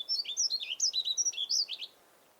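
Yellow-throated bunting calling: a quick run of thin, high, close chirps in a steady rhythm, about a dozen notes over two seconds, then quiet.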